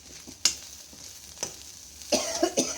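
Sliced onion frying in a pan with cluster beans and a little turmeric, a faint low sizzle broken by a few sharp clicks and clatters of stirring, louder toward the end.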